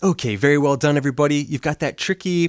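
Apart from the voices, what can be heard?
No everyday noise stands out behind the speech.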